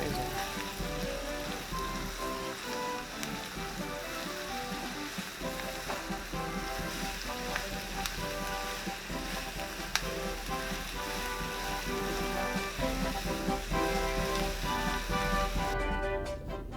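Onion, garlic and purple cabbage sizzling in a pan, a steady dense crackling and popping that holds throughout at a close, even level with no talk.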